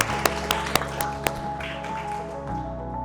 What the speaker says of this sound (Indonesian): Beri tepuk tangan untuk kelompok 5